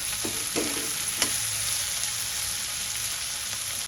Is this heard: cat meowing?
no